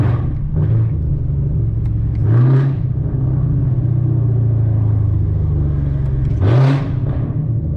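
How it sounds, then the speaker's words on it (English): A modded Camaro ZL1 V8 drives among downtown buildings, droning loudly and steadily with several sharp rev blips as it downshifts, each echoing briefly off the walls. "Downshift sound nasty, y'all."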